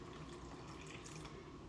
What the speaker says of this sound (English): Now add you just a little bit of water